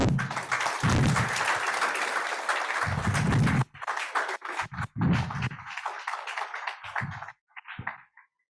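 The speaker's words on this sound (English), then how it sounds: "A round of applause, please" Audience applause at the IEEE InGARSS 2023 scientific conference as a memento is presented, loud steady clapping for several seconds, then breaking into shorter scattered bursts that fade out.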